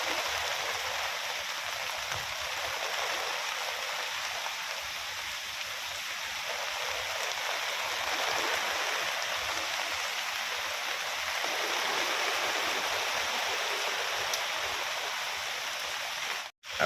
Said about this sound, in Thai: ฝนตกแรงมากกับเพื่อน